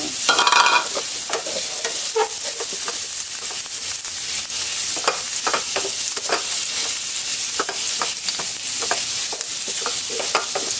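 Ground pork with a few small diced leftover pork pieces fries loudly in a pan, a steady dense sizzle broken by repeated scraping and stirring strokes throughout, with no talking.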